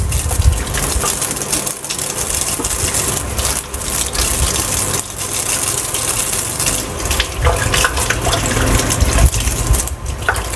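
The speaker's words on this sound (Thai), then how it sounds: "เรากลับด้านไส้แล้วก็ล้าง" Running water gushes loudly and steadily into a sink as beef intestines are turned and washed beneath the stream, with splashing throughout.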